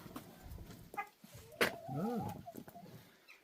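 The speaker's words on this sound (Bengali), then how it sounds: "দেশি মুরগি" Country hens clucking and squawking nearby in a Romanian village on a winter morning, with a drawn-out bleating call near the middle and scattered household clatter.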